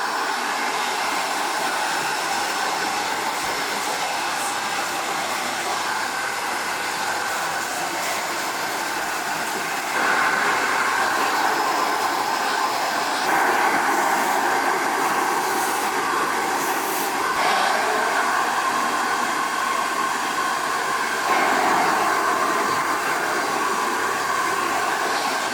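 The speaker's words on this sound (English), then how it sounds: "I'm going to use that round brush again to dry it off. On a high heat." Hair dryer on high heat blowing steadily while a round brush works through fine blonde hair, a constant close whooshing hum that grows slightly louder in stretches as the airflow shifts.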